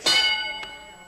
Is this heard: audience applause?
no